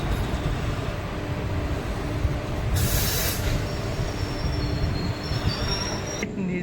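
The Mayurakshi Express, Deoghar to Howrah, rolls into Basukinath station in the dark with a steady heavy rumble of wheels on rails and a bright burst of brake hiss and squeal partway through, loud and continuous.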